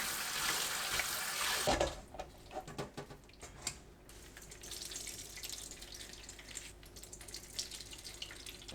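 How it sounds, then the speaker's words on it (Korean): Salted pickled cucumbers rinsed under running tap water: a strong gush of water fills the opening seconds, then stops abruptly, followed by quieter wet handling, squeezing and drips close by. "물에 헹구고 물을 꼭 짭니다."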